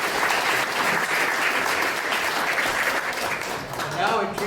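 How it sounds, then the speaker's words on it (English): Audience applause at a 2009 candidates forum at Sea Ranch: a continuous, even wash of clapping from a seated crowd, moderately quiet and sustained throughout. "thank you very much, and a round of applause"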